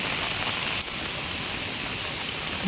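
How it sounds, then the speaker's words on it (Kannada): Heavy rain pours steadily during a Gowri Ganesha festival outing, a dense, continuous hiss close to the microphone with no voices, holding level throughout apart from one brief dip. "ಸೊ ಎಷ್ಟು ಮಳೆ ಅಂದರೆ ನಿಮ್ಗೆ ಗೊತ್ತಿಲ್ಲ, ತೋರಿಸ್ತೀನಿ ಆ್ಯಕ್ಚುಲಿ"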